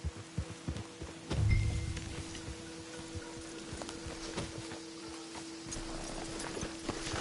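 Horse hooves in the video game Red Dead clip-clopping at a slow walk, soft and steady, with a low ambient hum underneath and a brief thump near the start.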